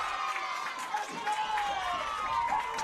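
A crowd at a boys varsity high school soccer match cheers after an equalizing goal, a fairly faint, steady roar of voices with scattered shouts lasting a few seconds.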